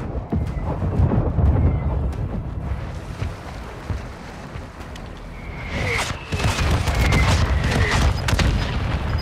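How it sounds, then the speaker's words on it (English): A mortar strike explodes in a video game: deep, rumbling booms roll on continuously, with a brighter crackling burst of blasts swelling near the end, loud and close with no voices. "Mortar strike on the way."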